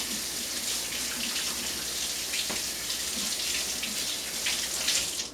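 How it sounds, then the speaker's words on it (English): Tap water runs steadily into a kitchen sink as hands are rinsed while baking a crumb cake, a continuous hissing splash with no talking. "I'm going to just rinse my hands quickly"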